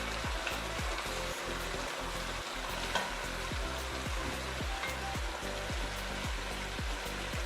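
Lamb shanks frying in a pan as wine cooks off with tomato sauce, a loud steady sizzle with bubbling and repeated scraping stirs throughout.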